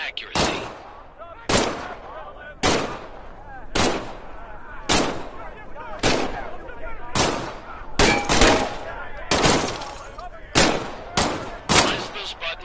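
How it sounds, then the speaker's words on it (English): A handgun fires about a dozen sharp, loud shots in the VR game Medal of Honor: Above and Beyond, roughly one per second, coming a little closer together near the end. Each crack rings briefly, with faint metallic tones between shots. "Grab the pistol from its holster on your hip. Squeeze the trigger to fire."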